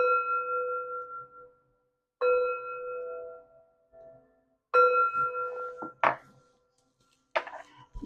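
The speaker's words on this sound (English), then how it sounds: "3 chimes to bring in positive energy." Three resonant chimes struck one after another in a quiet room, each ringing out with a clear sustained tone and slow decay, followed by a few soft knocks and clicks.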